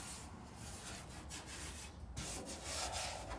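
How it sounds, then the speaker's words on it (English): Sandpaper rubs steadily over a carbon fiber trunk for an Evo 8/9 being touched up during restoration, a continuous close scratchy hiss with brief pauses and shifting strokes, no talking. "Just touch it up, some sandpaper."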